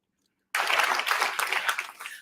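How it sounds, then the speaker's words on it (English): Audience applause at a TEDx talk, a burst of clapping that starts suddenly after a short silence, stays fairly dense and close, then begins to thin toward the end. "What are you applauding?"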